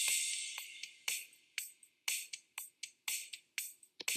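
Automatic full drum kit track from GarageBand's Drummer, played back quietly: a regular groove of hi-hat and cymbal hits with soft kick and snare strokes, faint and steady.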